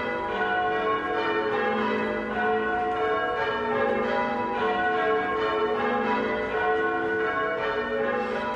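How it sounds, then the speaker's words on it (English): The bells of St Lawrence church in Ipswich, among the oldest rings of bells, peal continuously in overlapping, resonant tones, with a steady loud ringing throughout. "the bells of St Lawrence are once again ringing out across Ipswich"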